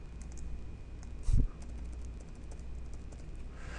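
Quiet typing on a computer keyboard, soft steady key clicks over a low room hum, with one brief louder thump partway through.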